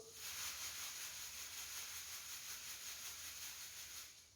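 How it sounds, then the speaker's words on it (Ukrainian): A soft, steady rustling hiss, faint and even, from a paper streamer toy being shaken gently, with no talking. "А тепер я візьму султанчик."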